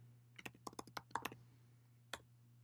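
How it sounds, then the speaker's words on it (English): Short burst of typing on a computer keyboard as an email message is written, about a dozen crisp, close key clicks in a quick uneven run, then a pause and one final keystroke in a quiet room. "all I have to do is type my message here"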